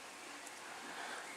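Steady rain falling outside a home, heard as an even, soft hiss throughout with no distinct drops standing out.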